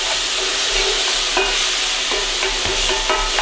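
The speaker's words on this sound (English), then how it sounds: "I'm just going to fry this for 5 minutes until these are soft" Broccoli fried and stirred in a pan for a beef ramen stir-fry: dense, steady sizzling up close with occasional spatula scrapes and taps, no voices.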